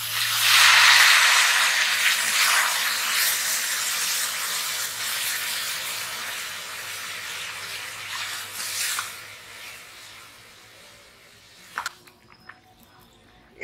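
Hot water poured into a pan of farm-fresh vegetables for a Bengali shukto hits with a loud, close sizzling hiss that slowly fades over about ten seconds, ending with a few light clinks of utensils.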